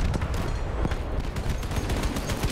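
Dense, continuous gunfire in the video game Broken Arrow, with rapid, loud shots blending into a sustained automatic rattle and barely any speech.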